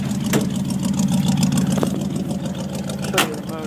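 A 1975 International Harvester pickup with a 392 engine runs steadily nearby, a continuous low drone with faint clatter and a brief surge near the end.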